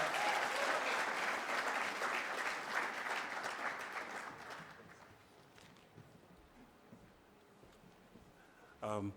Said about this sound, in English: I think he deserves another round of applause, ladies and gentlemen